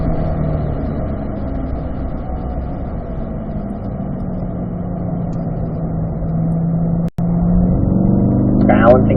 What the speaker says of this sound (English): then make that downshift.